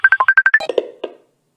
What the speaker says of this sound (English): Why is Jerry calling me